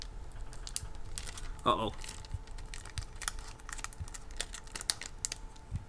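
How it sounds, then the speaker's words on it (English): Painted decals slowly peeled off a foam model airplane, a close, dry crackling and tearing rasp in short bursts, with a brief spoken exclamation partway through. "Just carefully and slowly peel them."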